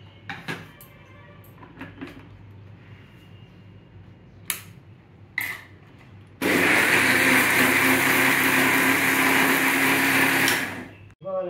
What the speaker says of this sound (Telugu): మిక్సీ చేసుకోవాలండి.